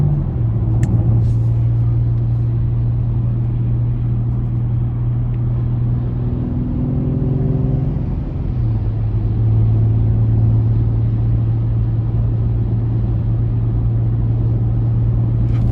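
A 2018 BMW X3 M40i cruising on cruise control in sport mode, with a steady low engine and road drone, a constant cabin hum and a brief shift in engine tone midway.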